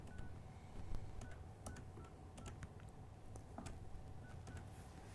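A telephone dials out to reach Valerie, a quick series of short keypad tones over a low background hum, faint and fairly distant.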